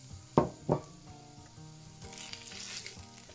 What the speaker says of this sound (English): Now with our pan hot, I'm going to throw the veggies in just for a minute to get them started.